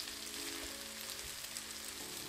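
Taro root pieces frying with mustard seeds in oil, a soft, even, continuous sizzle heard briefly and alone.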